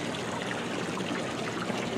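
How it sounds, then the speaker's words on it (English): Water running continuously from a faulty toilet at a town recreation center restroom, a steady near hiss and trickle with no pauses and no voices. "can you imagine how much water is being wasted on that toilet"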